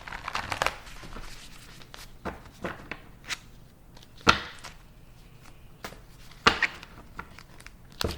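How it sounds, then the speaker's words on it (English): Tarot cards shuffled by hand up close, quiet irregular riffles, slaps and papery crinkles with a few sharper snaps spread across the clip, soft overall. "we're gonna give it a good shuffle."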